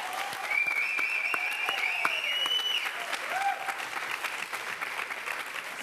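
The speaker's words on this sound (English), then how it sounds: "So let's give her a round of applause." An audience at a social-justice and feminism event claps steadily for several seconds, with a few whistles and cheers rising over the clapping before it eases slightly.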